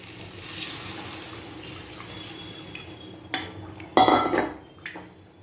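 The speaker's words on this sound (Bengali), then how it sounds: "তো চলুন এবার জলটা দিয়ে দিই" Water is poured into a cooking pot of potatoes: a few light pot clinks and drips come first, then a short, close splashing pour rushes in and fades.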